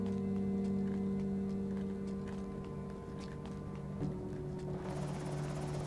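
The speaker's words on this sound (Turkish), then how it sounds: "Helikopter sesi geliyor arkadaşlar." A helicopter approaches in the zombie survival game Project Zomboid, a steady droning hum with faint rhythmic chopping that holds at moderate loudness throughout, slightly shifting near the end.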